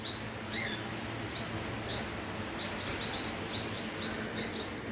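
Small birds chirp around a squirrel in short, high, upward calls repeated every fraction of a second, fairly faint over a steady outdoor background with no talk.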